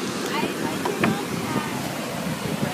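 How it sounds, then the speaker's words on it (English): Ocean surf washing up at a beach during a birthday outing, a steady broadband wash with gusts of wind buffeting the microphone and faint voices in the background. "We trying to run from waves because all of us scared of water"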